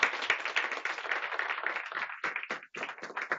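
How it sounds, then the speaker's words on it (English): Audience applause following a panel presentation on workforce and community health, a dense wash of many hands clapping that thins into scattered claps toward the end. "let's give Karen another round of applause."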